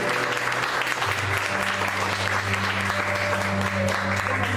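A church congregation clapping during a Spanish-language service, with continuous dense applause over a sustained low tone, likely music, lasting throughout.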